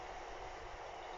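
Train noise rolls past close by as a constant dense rumble with a hiss on top, unbroken for the whole moment and with no one speaking.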